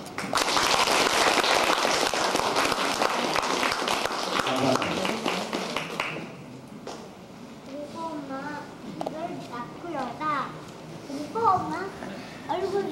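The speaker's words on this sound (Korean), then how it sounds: "박수가 치십시오" Guests at a sixtieth birthday party clap in a dense, lively burst for about six seconds, then the applause breaks off and voices, including children, chatter nearby.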